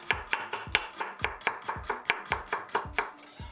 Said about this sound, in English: And then this one, just finely slice.